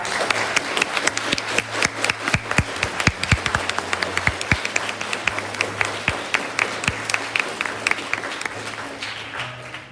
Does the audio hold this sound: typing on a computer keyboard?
no